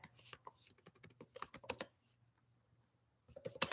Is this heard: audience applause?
no